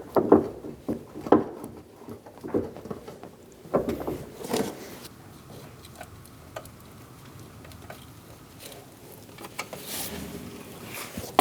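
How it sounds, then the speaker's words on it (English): A 15mm wrench snugs down the strut nuts on a 2008-2015 Scion xB front strut assembly, giving a run of close, light ratcheting ticks and metal clicks in bursts, with quieter stretches between. "Using a 15mm wrench, we're going to snug down the nuts."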